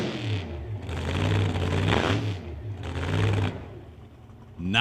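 A drag racing car's engine revs at an outdoor drag strip in repeated swelling bursts, rising and falling several times, fairly close and loud.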